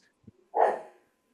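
A dog gives one sharp, close bark after a faint yip, then falls quiet in an otherwise silent room.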